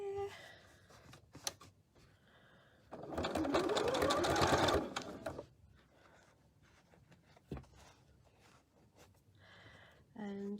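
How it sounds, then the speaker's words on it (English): A sewing machine with a zipper foot stitching a fabric book cover along elastic, a steady mechanical whirring burst of about two seconds, with a person talking quietly before and after and small handling clicks. "hopefully we'll be able to stitch in the same place as where we've put our elastic in"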